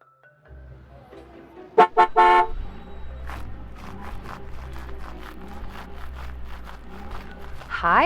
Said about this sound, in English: You had to honk?